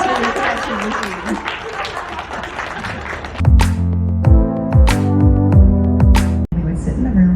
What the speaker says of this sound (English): Give yourself a round of applause for the connection machine